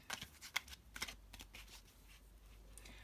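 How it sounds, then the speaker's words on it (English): Tarot cards are shuffled close up in a series of crisp riffling bursts, several quick flutters in the first half, then softer handling. "I'll do a little bit more shuffling on camera"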